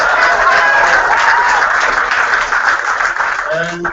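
Large audience at a Youth Olympic Games farewell and flag bearer announcement applauds continuously, loud sustained clapping and cheering, with a voice beginning to speak at the end.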